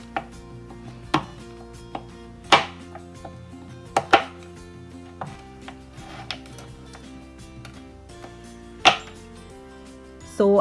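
Dark chocolate being chopped on a board for melting, a knife striking in sharp, irregular thuds spaced a second or so apart, close and clear with no talking.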